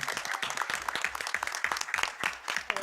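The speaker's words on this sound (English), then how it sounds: "Round of applause one more time for Scarlett." Applause at a Roselle Park borough council meeting, a moderate crowd clapping steadily and unevenly for about three seconds, close and fairly loud, with no speech over it.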